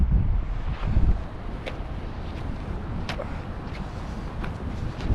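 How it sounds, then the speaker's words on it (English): Wind blowing across open, deep snowy ground in Colorado, a steady low roar with gusty microphone buffeting, loudest early on, continuous and close throughout. "there's nothing to stop the wind"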